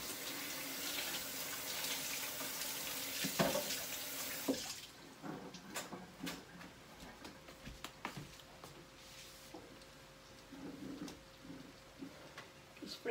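Running water from a kitchen tap splashes steadily as hands are washed at the sink during cooking, a loud continuous rush that stops after about five seconds, followed by quieter clinks and handling sounds.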